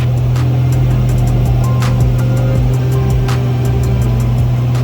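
Engine of an Extra 330LX aerobatic plane in flight during a snap roll, a loud, steady droning hum heard close up from inside the cockpit.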